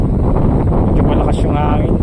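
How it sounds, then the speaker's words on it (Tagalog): Strong wind buffets the microphone at a ferry port during an afternoon vessel arrival, a steady loud roar lasting throughout with no gaps. "Medyo malakas yung hangin."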